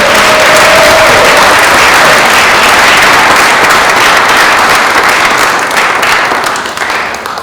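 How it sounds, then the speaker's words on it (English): Audience applauding panelists at the close of a talk event, dense sustained clapping from a sizable crowd that gradually tapers off toward the end, no voices over it. "Can we give our panelists all another round of applause?"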